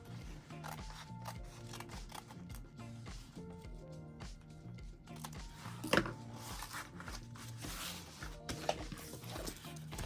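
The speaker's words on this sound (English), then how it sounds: "now take your scissors and trim this to the same size." Scissors snip through fabric in short, uneven cuts, close by, over a low steady hum, with one sharper clack partway through.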